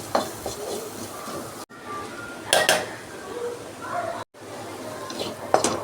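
Cauliflower being stirred with masala in a pan, repeated scraping and clanking of a spoon against metal over a faint sizzle, close by, with a few brief cut-out gaps.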